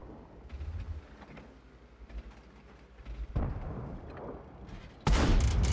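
Cannon fire in a tank video game, played from a Lorraine 40t on the Overlord map: a muffled distant boom midway, then a loud, close, sharp shot near the end over rumbling engine and mechanical creaks.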